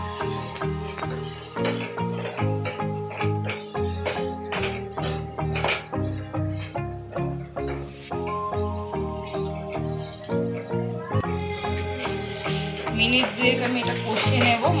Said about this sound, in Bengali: আমি এবার যে মাছটা ভেজে রেখেছি এটা দিয়ে দেবো। এটা আমি একটু মশলার সাথে কষিয়ে নেব।